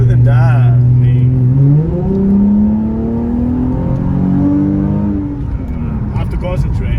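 A Nissan 350Z pulls hard at roughly three-quarter throttle, its engine note rising in pitch as it revs up through the gears, loud from inside the cabin with someone talking over it.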